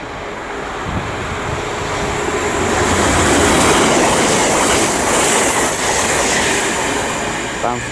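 A Super Voyager train rumbles through Watford Junction on the West Coast Main Line, a loud, steady broadband roar that swells toward the middle of the pass and stays close throughout.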